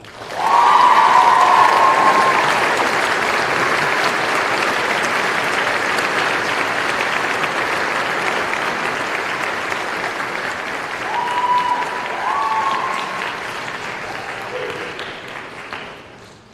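Audience at a senior honors night applauds an honoree, steady loud clapping for about fifteen seconds that gradually thins and fades out, with no talk over it.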